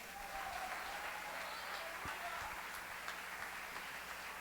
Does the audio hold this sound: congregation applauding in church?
yes